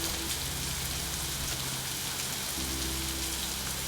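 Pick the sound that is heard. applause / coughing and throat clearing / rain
rain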